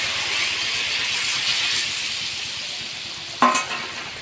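Rui fish curry with kata note stalks sizzling in a pan while being stirred, a steady close hiss that eases slightly, then a sharp scrape or clank near the end.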